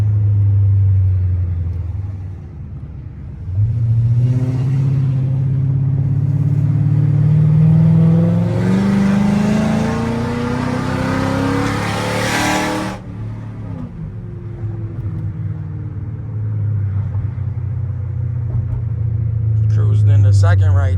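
A Chrysler 300C engine revs and climbs steadily in pitch for several seconds as it is downshifted with paddle shifters, then drops back to a low, steady rumble.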